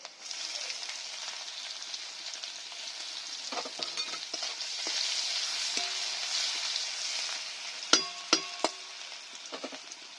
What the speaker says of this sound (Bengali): থেতো করা রসুনগুলো দিয়ে দিচ্ছি, কুচিয়ে রাখা পেঁয়াজগুলো দিয়ে দিচ্ছি।